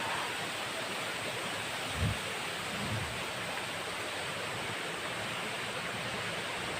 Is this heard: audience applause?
no